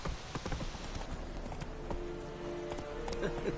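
Roach, a horse in the Witcher 3 video game, clip-clops steadily along with a rhythmic, moderately close run of hoofbeats over game ambience.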